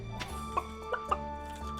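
Chickens in the farming game Stardew Valley give a few short, soft clucks at irregular intervals over sustained background game music.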